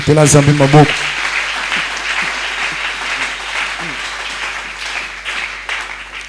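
A church congregation bursts into sustained applause for the Lord after a brief spoken voice, with dense, steady clapping filling the room for several seconds.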